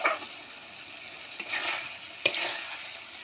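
Peas and potatoes frying in oil are stirred in a pan for an Assamese pea curry. A soft, steady sizzle runs underneath three scraping stir strokes, the last one sharper, with no talking.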